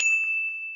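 A single bright notification bell ding strikes once and rings out as a clear, sustained tone that slowly fades, heard alone.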